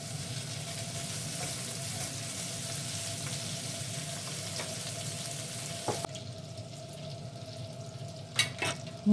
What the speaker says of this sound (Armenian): Հիմա բուսայուղին կավելացնեմ կտրտած միսը ու կսկսեմ բովել։